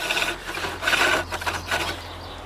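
A flat chisel smooths a piece of wood spinning on a lathe, giving a close, continuous scraping rasp that swells and fades in short passes over a low steady motor hum.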